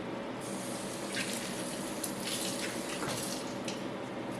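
Tap water runs steadily into a kitchen sink while asparagus spears are rinsed, a constant close splashing hiss with slight shifts as the stream hits the vegetables.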